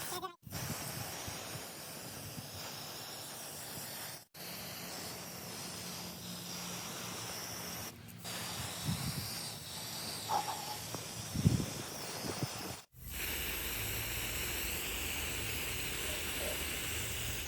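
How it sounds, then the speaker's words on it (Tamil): Spray paint is applied to chainsaw covers during an old chainsaw's restoration, producing several long, close hissing bursts separated by brief silent pauses, with a stronger, steadier spray at the end. "நான் பெயிண்டை வச்சு நல்லா ஸ்ப்ரே பண்ணி விட்டுக்கிறேன்"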